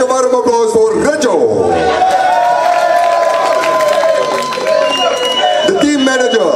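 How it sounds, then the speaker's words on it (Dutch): Loud, sustained crowd cheering and clapping greet a football team's goalkeeper trainer at a player presentation, with voices whooping and shouting over the applause for several seconds. "Maak een warm applaus voor Reggio!"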